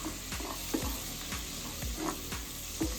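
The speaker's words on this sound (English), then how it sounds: "we're going to add our butter right to the pan. I'm going to melt that in." Butter melting in a hot pan for bacon clam chowder sizzles steadily and close up, with a few scraping stir strokes breaking through at regular intervals.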